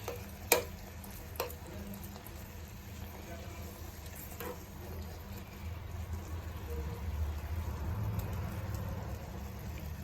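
Maggi noodles cooking in a pan, a faint sizzle with a few sharp clinks of stirring near the start, quiet and close.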